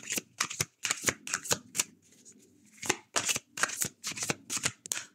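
Oracle cards are shuffled up close in quick repeated bursts of riffling and flicking, with a short quiet gap in the middle before the shuffling resumes.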